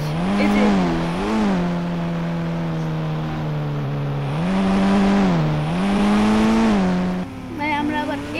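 Bike engine in Indian Bike Driving 3D, a video game, drones steadily with its pitch rising and falling as the rider speeds up and slows down. It stays loud and continuous, with a brief change in tone near the end.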